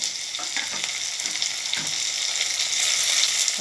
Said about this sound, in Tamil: தக்காளி வந்து நல்லா குழஞ்சி வரணும் அந்தளவுக்கு நான் வதக்கலாம்